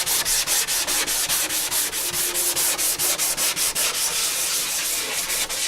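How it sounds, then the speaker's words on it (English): Rhythmic back-and-forth sanding on Suzuki GSX-R 1000 track motorcycle bodywork being prepared for paint, a steady run of quick, close abrasive strokes with no voices. "go sand out some bodywork"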